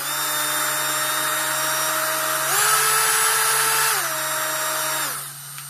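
Black & Decker RTX rotary tool with a variable-speed dial, whining steadily at close range, its pitch stepping up partway through as the speed rises, then dropping back down before the motor winds off at the end.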